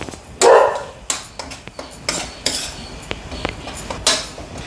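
A metal utensil scrapes and clinks repeatedly against a pan while stirring masala for kurma, irregular knocks and rattles up close with no talking.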